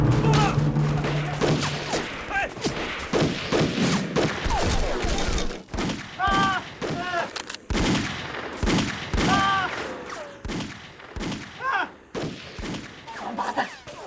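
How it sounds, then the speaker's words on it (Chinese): Gunfire in a war film about fighting Japanese invaders: repeated loud bursts of shots crack through a dense, busy soundtrack, with music and voices mixed underneath. "那边院子怎么有枪声啊？"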